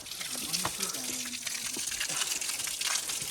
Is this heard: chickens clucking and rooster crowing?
no